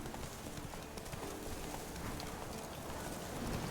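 Hooves of the horse Roach in The Witcher 3, a steady clip-clop at a running pace, fairly quiet and continuous under a dense wash of game sound.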